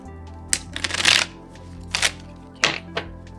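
A deck of animal spirit cards is shuffled by hand, producing several quick riffling bursts and soft taps, close and fairly quiet, with short pauses between them.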